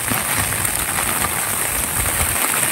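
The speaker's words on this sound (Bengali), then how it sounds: "তুমুল বৃষ্টি।" Heavy rain pouring at Shankarpur near Digha on the seaside, a dense, loud, continuous hiss of downpour close by, with no talking.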